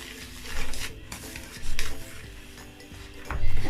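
Egg and plain yogurt being mixed in a bowl for homemade pancake batter, with scraping and clinking of a utensil against the bowl in a few louder bursts over a low kitchen background.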